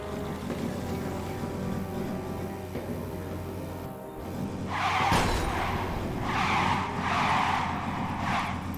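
A car in LEGO DC Super-Villains drives along with an engine hum, then skids with loud tire squeals in repeated bursts through the second half.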